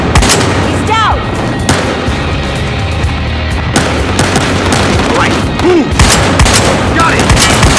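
Dense gunfire from a Battlefield Hardline cutscene, with rapid bursts and single heavy shots layered over loud continuous combat noise and booms, as characters shout briefly amid the fighting.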